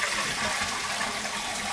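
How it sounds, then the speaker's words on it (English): A SIAMP Optima 49 toilet flush unit doing a full flush, water rushing loudly and steadily into the bowl from up close, a continuous gushing roar with no voices. "and we'll do a full flush."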